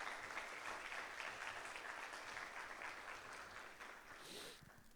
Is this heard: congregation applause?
yes